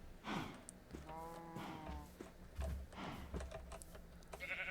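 Sheep in Minecraft bleat in a few wavering, harmonic cries, one long bleat near the middle, while a person talks and makes small sounds between them.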